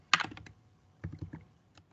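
Typing on a computer keyboard while writing a code comment: a quick cluster of key clicks, a pause, then another short burst of taps, close and crisp with no speech.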